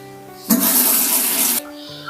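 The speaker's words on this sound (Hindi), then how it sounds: "सबसे पहले बाल्टी में गर्म पानी लीजिए" Hot water gushes into a bucket in one close, loud pour lasting about a second, starting and stopping abruptly, with no talking.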